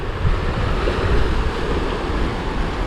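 Atlantic ocean waves breaking on the rocky shore at Candelaria, Tenerife: a loud, close, continuous surf roar with wind buffeting the microphone.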